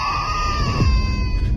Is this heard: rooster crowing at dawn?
no